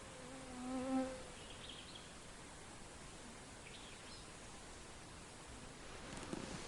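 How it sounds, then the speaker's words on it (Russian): A faint, thin mosquito whine hovers over a soft hiss of outdoor background noise while fishing, with a brief louder buzz passing close early on. "И комаров очень много уже появились."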